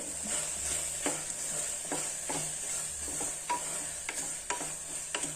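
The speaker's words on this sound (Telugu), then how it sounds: "మసాలాలో కూడా బాగా వేగింది కదా ఇప్పుడు" Masala for a dry goat mutton curry fries in a pan with a steady sizzle, while a spoon scrapes and stirs it in regular strokes that clack close by every second or so.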